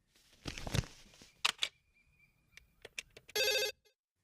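A landline telephone rings once, a brief loud electronic trill near the end, after scattered clicks and handling thumps close to the microphone, with no voices.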